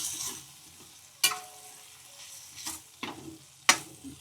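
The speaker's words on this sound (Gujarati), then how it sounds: "બધું મિક્સ કરી લેવાનું" A spoon stirs a Gujarati lablab bean curry in a sizzling pan, with a few sharp metallic scrapes and knocks standing out over the soft, steady frying hiss.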